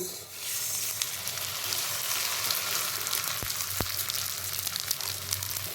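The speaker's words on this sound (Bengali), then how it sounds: "এই পর্যায়ে আমি ছেড়ে দেব শুকনো করে রাখা চাল।" Dried rice poured into hot oil and ghee for plain pulao sizzles steadily and loudly up close, with a couple of sharp clicks of a spoon partway through and no voices.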